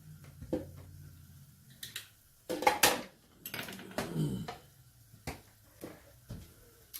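A spoon stirs a mushroom and cauliflower risotto with bacon in a pan, making irregular scrapes and clinks against the metal, with one louder clatter partway through.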